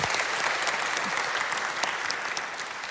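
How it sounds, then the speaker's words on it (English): An audience gives a steady round of applause at a church talk event, a dense even patter of many hands clapping at moderate level for about three seconds with no speech over it. "Let's give Shashil a round of applause"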